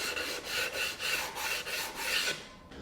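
A Gator Micro Zip detail sander rasps along plywood edges in steady back-and-forth strokes, close and fairly quiet, with no voices.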